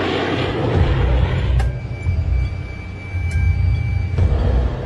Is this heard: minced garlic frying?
no